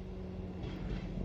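A passenger train bound for Leicester idles at a small station near Collingham, giving a steady low diesel rumble and hum that stays close and even for about a second.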